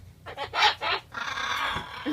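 A pet bird imitates a chicken with a short burst of clucking calls, a few choppy clucks followed by a longer raspy trailing cluck, close by and fairly loud.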